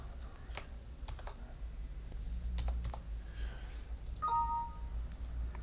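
Someone types a password on a computer keyboard: a handful of separate, close key clicks over a steady low hum, followed by a brief soft electronic tone.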